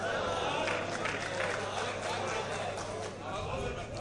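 A crowd claps at a poetry mushaira in Bhiwandi, with dense, steady applause filling the whole stretch and a speaking voice mixed in over it.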